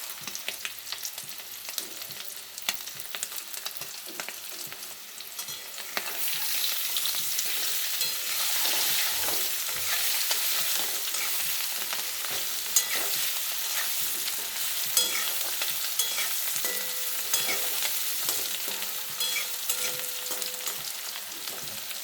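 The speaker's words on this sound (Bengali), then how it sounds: "এখন কিছুটা লবণ আর হলুদ দিয়ে ভাজা ভাজা করে নেব আলুগুলোকে।" Potatoes frying in oil with salt and turmeric in a kadai, giving a continuous close sizzle that grows louder partway through, with scattered clicks of stirring and no talking.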